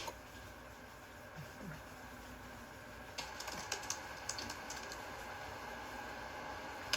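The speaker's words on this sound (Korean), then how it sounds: "타이핑 치는 디테일샷도 찍어줄게요." Laptop keyboard typing close up in a quiet room, soft clicky keystrokes arriving in quick irregular bursts over faint background hiss, growing busier in the second half.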